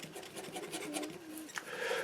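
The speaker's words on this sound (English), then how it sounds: "I sand it with a bit of rough sand. It's very hard, this MDF." Rough sandpaper is rubbed by hand over hard 2mm MDF, giving quiet, close, rhythmic scratchy strokes in short back-and-forth passes.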